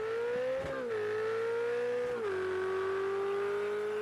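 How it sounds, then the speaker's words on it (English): Ferrari 488 Challenge race car engine in the Project Cars 2 racing game, a steady loud high-pitched drone with two brief dips as it downshifts, held at an even level throughout. "Nice cackle as he downshifts through that rather quick bend."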